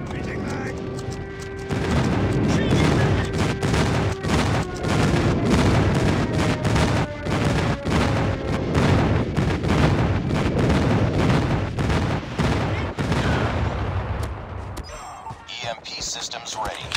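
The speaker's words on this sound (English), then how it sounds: "Friendly airstrike incoming." Repeated explosive booms and gunfire from an airstrike in the mobile shooter Call of Duty Mobile, a team deathmatch on the Rust map, pounding loudly and dense for most of the stretch before thinning out near the end.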